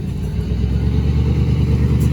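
Exhaust of a 1973 GMC RV while driving slowly, a steady, loud low rumble that holds continuously throughout with no voices.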